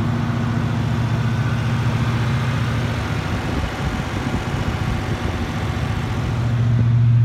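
A Toyota FJ60 with an LS3 V8 swap idles at about 1,000 RPM from roughly three feet away, a steady low rumble with a faint pulsing exhaust note and no talk over it.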